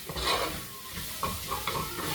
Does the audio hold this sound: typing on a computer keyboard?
no